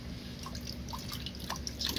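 Water drains and drips from a carbon container taken out of a reef aquarium during maintenance, a steady close trickle with scattered small drips and splashes.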